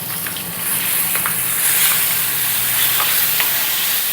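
Bottle gourd chutney being stirred in a pan, a steady close scraping and stirring with a soft sizzle throughout, with no voices.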